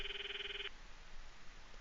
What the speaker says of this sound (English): call Mayuri's phone from my address book